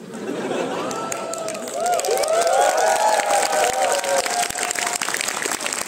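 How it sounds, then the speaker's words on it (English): A cinema screening audience applauds, the clapping swelling louder after a moment and continuing steadily, with cheering and shouted voices rising over it. "I love the way you guys applaud."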